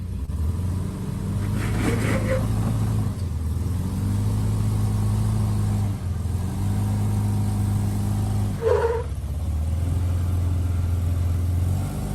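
A Toyota Land Cruiser 200 crawls over off-road terrain, its mid-pitched engine droning and revving in long sustained pulls with brief dips, alongside occasional scraping sounds.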